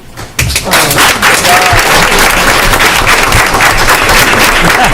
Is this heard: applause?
yes